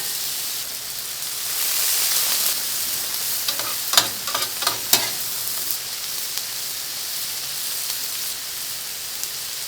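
Hibachi chicken and vegetables sizzling steadily on a hot surface, a continuous loud hiss with a few sharp scraping stirs in the middle.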